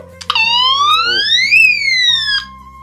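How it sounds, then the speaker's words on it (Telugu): A loud homemade pull-switch electronic alarm siren wails close by, its pitch sweeping up then down in a single cycle before cutting off. "ఈ సైరన్ అయితే అందరికి వినిపించి"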